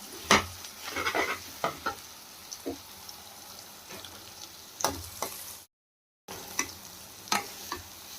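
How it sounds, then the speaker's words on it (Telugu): A ladle stirs tomato egg curry in a pan, scraping in uneven bursts over a low sizzle. The sound stops completely for a moment near the end, then the stirring starts again. "ఒకసారి బాగా కలిపెట్టుకుందాం"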